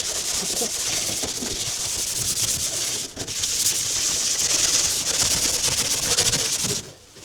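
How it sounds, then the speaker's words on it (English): Scotch-Brite pad and brake cleaner scrubbing the floor tunnel of a Honda Civic during degreasing, a steady close abrasive rubbing with one short pause partway through, then a brief stop near the end. "Now I'm using just the Scotch-Brite and some brake cleaner to degrease it again."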